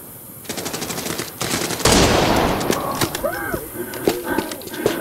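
Heavy gunfire from an SJ16 .338 Lapua rifle in the Arena Breakout Infinite shooter game, a loud sharp blast amid rapid repeated shots and game effects, with excited voices talking over the action.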